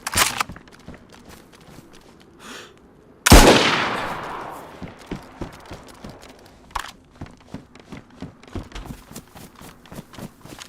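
A single loud, sharp gunshot rings out in DayZ on the Vanilla Chernarus map, its long echoing tail decaying over about two seconds, followed by quieter rustling footsteps and movement.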